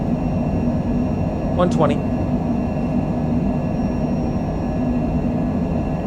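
Aircraft engines roar steadily through a windy takeoff roll at Easter Island, a loud constant drone filling the cabin while a voice calls out speed briefly over it.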